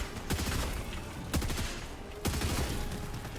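Automatic gunfire in Helldivers 2 comes in three rapid bursts of loud, close shots, with the battle's din continuing between them.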